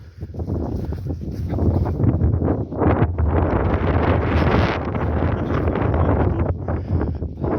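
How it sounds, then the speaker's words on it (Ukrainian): Strong wind buffets the microphone in a loud, continuous roar that surges and eases over several seconds, with no other sound standing out, while walking on ice and through a forest. "зараз дуже сильний вітер"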